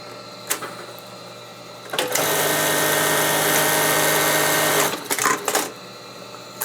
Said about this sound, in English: put it underneath this machine. We're going to put a buttonhole right here